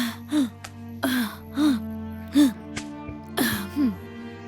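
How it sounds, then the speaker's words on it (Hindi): Repeated coughing fits indoors in a smoke-filled house, roughly five bursts spread through the stretch, close and fairly loud, with steady low background hum. "घर में इतना धुआं क्यों? खांसी तो आएगी ही ना।"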